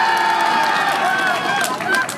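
Brief burst of audience clapping and cheering at an outdoor cherry blossom festival on the Nakdong River, crowd noise swelling close and dense for about two seconds.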